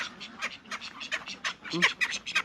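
Muscovy ducks call in a rapid string of short, rasping squawks and quacks, close by and irregularly spaced, with a louder cluster near the end.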